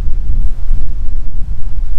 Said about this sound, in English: It's very windy today, it's not very easy.